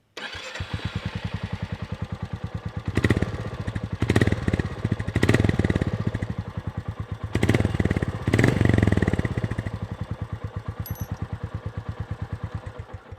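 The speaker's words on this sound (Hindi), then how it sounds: "अभी स्टार्ट करते हैं उसको, मैं आपको इसका एग्जॉस्ट नोट सुनाता हूँ।" A Royal Enfield Goan Classic 350 motorcycle starts and idles with a steady, crisp single-cylinder exhaust beat close up, with several sharp throttle blips raising the revs before it settles back to idle.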